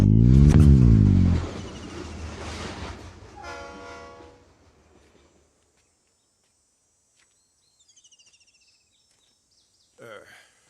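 A train runs beside the railway track, with a loud horn blast and a rumbling pass at the start that fades away, then quiet with faint sounds and a brief noise at the end.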